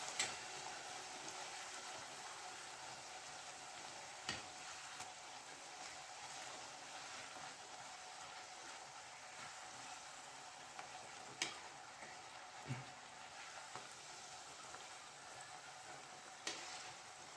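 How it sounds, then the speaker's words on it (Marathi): Palak puris deep-frying in oil on a low flame give a faint, steady hissing sizzle throughout, with a few soft ticks and clicks scattered over it. "मंद आचेवर छान तळून घ्यायचे आहे।"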